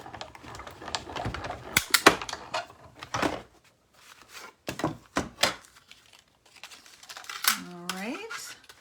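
Cardstock pieces for a card are cut with a series of crisp snips and paper rustles in uneven bursts, close and fairly loud, with pauses between them. A short rising squeak of speech is heard near the end.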